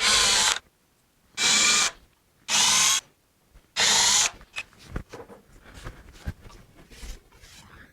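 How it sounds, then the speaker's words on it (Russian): A power drill bores screw holes for feet in a wooden end-grain cutting board, with four loud bursts of roughly half a second to a second each, separated by short pauses, followed by lighter handling clatter and taps. "Теперь перед покрытием я просверлю отверстие под саморезы под ножки."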